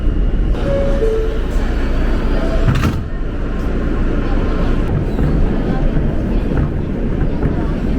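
A New York City G subway train rolls into Bergen Street station with a loud, steady rumble of wheels on track, a brief squeal, and a sharp clank partway through.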